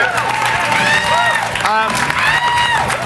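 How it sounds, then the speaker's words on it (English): Crowd applause and cheering for game designer Cliff Bleszinski at an E3 2008 stage show, steady loud clapping throughout while a host talks over it with rising and falling tones. "Yes, clap for Cliff."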